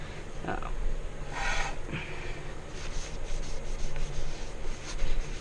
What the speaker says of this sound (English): you still want to clean the surface area of the brake rotor like this